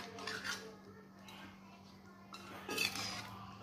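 Quiet scrape and clink of a utensil stirring fried eggs in a pan, two soft bursts of metallic stirring over a low steady hum, faint and close.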